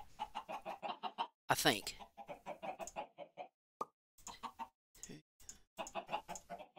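A video game chicken clucks in short repeated bursts, with a sharp loud squawk near the start, while someone talks quietly over it.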